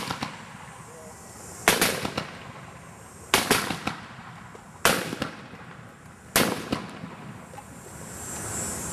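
Civil War reenactors at a GAR encampment drill fire rifles by file, one after another: four sharp, loud cracks spaced over several seconds, each trailing a short echo, outdoors.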